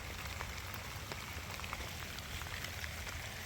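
Heavy rain pours steadily over a hiking trail turned to running water along the American Discovery Trail, a dense, constant hiss with scattered close drops and no talking.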